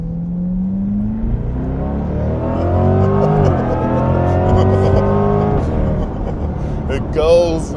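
A Corvette C8 sports car accelerates hard, its engine note climbing steadily in pitch through a gear, loud and heard from inside the cabin, with voices talking over it.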